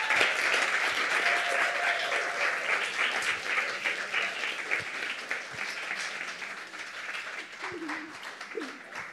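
Audience applause at Union Market welcoming speakers, a dense wash of clapping that starts strong and gradually tapers, with a few brief voices near the end.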